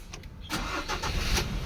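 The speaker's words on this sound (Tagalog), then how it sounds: "Okay, ignition on. Engine start." A Ford Ranger engine cranks and catches, then runs at a steady mid-pitched idle, close and fairly loud after a brief quiet start.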